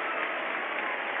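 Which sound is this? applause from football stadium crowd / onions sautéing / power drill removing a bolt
applause from football stadium crowd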